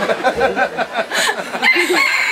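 A rooster crows loudly and close by, a single bright, strained call stretching across about two seconds with no talking over it.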